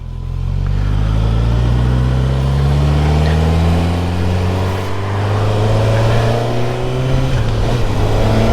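A 2022 Suzuki GSX-S 1000 GT motorcycle, its reworked 2005 GSX-R engine, pulls away on a light throttle with two people aboard, a loud, close, steady drone that climbs smoothly in pitch through the gears.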